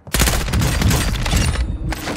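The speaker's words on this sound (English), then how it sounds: "Mortar support incoming! Solid copy. Mortar strike on the way." Mortar strike explosions in a video game land as a dense, continuous barrage of loud booms and crackling blasts, a sustained close fusillade with no voices.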